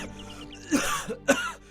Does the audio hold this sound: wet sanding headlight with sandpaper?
no